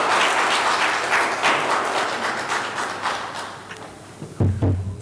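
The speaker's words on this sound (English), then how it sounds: "Round of applause." Audience applause at a conference on the metaverse, a sustained crowd clapping that fills the room and slowly fades, ending with a couple of low thumps near the close.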